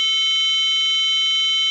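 A steady electronic tone near 440 Hz from a PIC16F887 frequency tuner, with faint soft pulses beneath, heard close and continuous with no talk.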